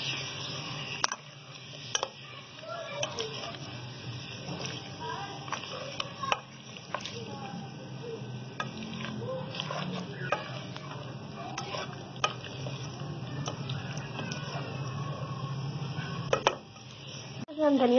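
Boiled potatoes stirred into a frying pan for Pakistani-style aloo chaat, with soft, faint sizzling under repeated scraping and clinking of a spoon against the pan.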